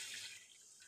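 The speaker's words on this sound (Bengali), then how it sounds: "এবার আমি এর মধ্যে জল দিয়ে দিলাম" A small amount of water is poured into cooked mustard paste in a pan, making a brief, faint splashing hiss that tapers off quickly.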